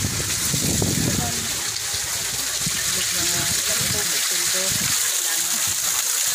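Water gushing and splashing steadily in a wishing well fountain, close and continuous, with voices talking over the flow.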